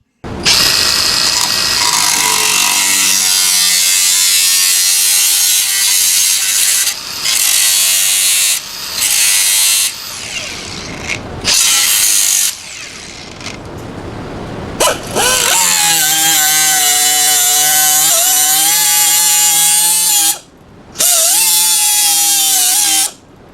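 A power tool cuts into the cab metal of a 1986 GMC truck, a loud, close, harsh grinding whine that runs in long stretches broken by brief stops and restarts.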